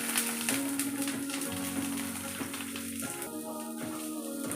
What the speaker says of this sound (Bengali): বেগুন ভাজছি।